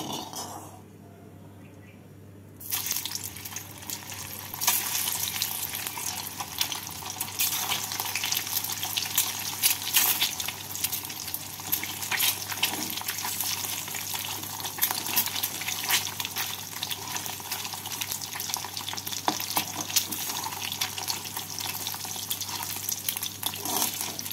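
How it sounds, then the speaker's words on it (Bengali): Eggs fry in hot mustard oil in a pan, and a steady, close sizzling hiss starts suddenly after a quiet moment and keeps going evenly to the end. "তেলটা ভালো করে গরম করে নিয়ে ডিমগুলোকে এপিট ওপিট করে ভেজে তুলে নেব।"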